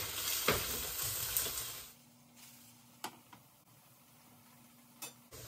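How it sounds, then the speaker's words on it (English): Tofu frying in oil in a nonstick pan, a loud crackling sizzle that cuts off abruptly after about two seconds, leaving a quiet room with a faint hum and a few light clicks. "let the tofu fry on the second side for another couple minutes."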